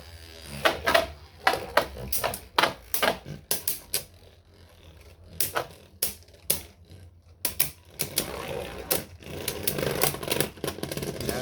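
Beyblade Burst Surge tops Jet Wyvron and Cursed Devilos spin and collide in a stadium, giving sharp irregular clacks and knocks in quick bursts with short pauses between, near and crisp.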